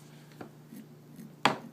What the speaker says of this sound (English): Listen to that. That's the sound of a sharp edge.